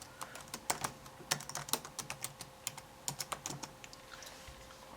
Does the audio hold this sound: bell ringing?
no